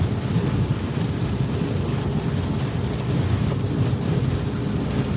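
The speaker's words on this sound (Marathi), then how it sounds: "आमच्याकडचा पाऊस तुम्हाला दाखवायचा होता भयान पाऊस चालला आहे" Heavy monsoon downpour in a rural village, a dense, steady roar of rain that holds at an even level throughout with no voices.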